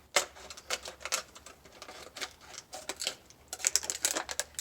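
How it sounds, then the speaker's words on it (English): Scissors snipping and cutting around a plastic water bottle, a rapid run of crisp clicking cuts and crinkling plastic close to the microphone, uneven in rhythm with brief pauses. "so you can put your scissors right inside, cut around"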